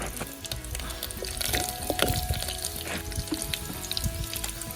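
Curry leaves hit hot oil already spluttering with mustard and cumin seeds, a close, loud crackling sizzle with a rapid spatter of pops throughout and no talking.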